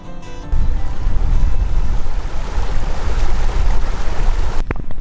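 A river flowing on misty, boggy Dartmoor moorland: a loud, continuous rush of water mixed with wind buffeting the microphone, ending abruptly with a brief rustle.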